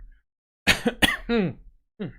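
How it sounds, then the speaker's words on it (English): A couple of sharp, close human coughs with a throaty clearing sound, followed by a short pause and one more brief cough. "A little bit of a cough there."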